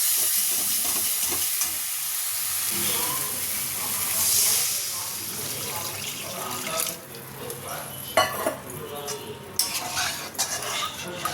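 Bengali spice paste for kalia sizzling in a pan on a home stove, frying with a steady hiss while a utensil scrapes and stirs, followed by clinks and splashes of water being added, with faint background voices.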